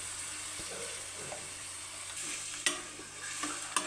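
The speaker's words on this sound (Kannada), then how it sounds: "ಇವಾಗ ಇದು ರುಬ್ಕೊಂಡಿರೋ ಮಿಶ್ರಣ ಹಾಕ್ತಿದ್ದೀನಿ" Ground masala paste goes into a pan of sizzling onions, producing a steady, soft hiss of frying with a couple of sudden louder spatters and scrapes as it is stirred.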